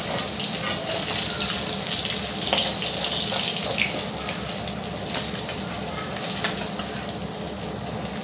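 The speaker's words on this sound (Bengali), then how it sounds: "বাকিগুলোও ভেজে নেব" Pasha fish frying in hot oil, with a steady, close, dense sizzle and crackle running unbroken throughout and no voices.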